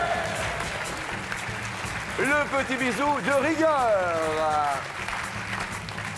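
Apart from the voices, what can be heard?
studio audience applauding on a French TV game show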